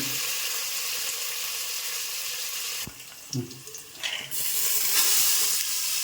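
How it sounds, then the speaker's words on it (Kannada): Washed field beans (avarekalu) frying in oil, a loud continuous sizzle that briefly drops away mid-clip with a few clatters and stirring knocks before the hiss swells again. "ತೊಳ್ಕೊಂಡಿರೋ ಅವರೆಕಾಳು ಸೊ ಚೆನ್ನಾಗಿ ಎಣ್ಣೆಯಲ್ಲಿ ಫ್ರೈ ಆಗಲಿ"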